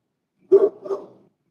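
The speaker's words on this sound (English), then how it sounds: "this is your dog" A male dog just over two years old, at what seems to be a shelter, gives two close, loud barks in quick succession, with no other sound around them.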